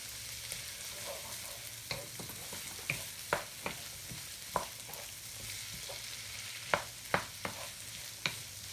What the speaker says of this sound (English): So now you give them about 4 minutes because the peppers need to be cooked properly.